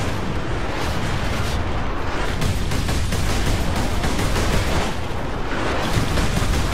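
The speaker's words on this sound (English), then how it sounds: "I don't know how that missile missed me" A missile explosion in Warhammer 40k Space Marine: a loud, sustained roar of blast and rumbling debris with crackling bursts, heavy and close, with no voices.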